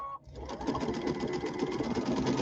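A sewing machine stitches steadily around the corners of a pillow, its close, continuous mechanical whir starting after a brief pause and running on without talk.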